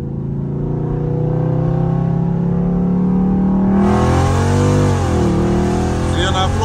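A Dodge Challenger Scat Pack engine pulls hard in low gear, its loud exhaust note climbing steadily and then surging into a harsher, rising roar as the revs build.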